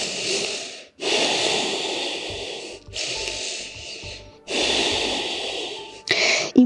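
Heavy, loud breathing close to the microphone during a morning exercise routine, with long rasping inhales and exhales in a slow repeating rhythm and short pauses between breaths.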